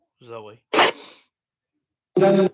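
A sudden, sharp sneeze bursts out between short vocal sounds, followed by a brief pause and then a voice speaking.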